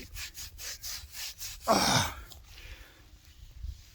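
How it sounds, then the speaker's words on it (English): A dock leaf rubbed against a bare leg on a coastal walk: rhythmic, close brushing strokes, then a louder rustling swipe and a few fainter rubs. "you rub your leg with the dock leaf."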